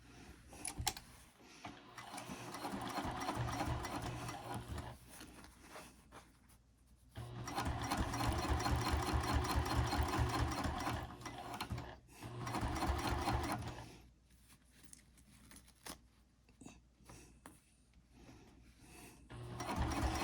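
A sewing machine stitches a double-pocket wristlet clutch in several close bursts of fast, even needle strokes separated by pauses, with a voice talking between and over some runs.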